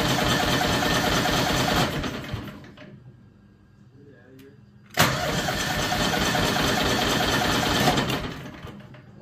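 A John Deere 445 lawn tractor engine cranks over during a compression test: a loud rhythmic starter churn for about two seconds, a quieter pause, then a sharp resumption of steady cranking that runs until near the end.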